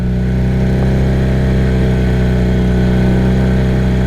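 A 1978 Honda CB400 motorcycle riding on gravel: a loud, steady engine drone with a constant low rumble and wind roar throughout, heard close up and without talk.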